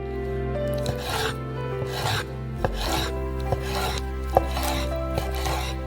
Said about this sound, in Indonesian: Yang terakhir adalah paha ayam.